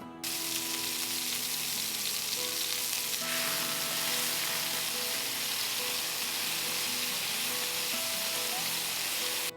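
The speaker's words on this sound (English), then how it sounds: "We're just gonna take these and sizzle them for about 3 to 4 minutes on each side" Steady, loud sizzling of bison burger patties frying in a hot cast iron skillet, continuous crackle and hiss throughout with no voices.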